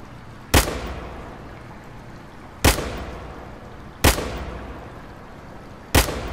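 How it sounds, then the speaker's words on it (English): Four loud, sharp gunshots from a firearm in Fallout 4, fired at creature eggs, spaced a second or two apart with a short decaying tail after each, no talking. "Maybe we should shoot these eggs."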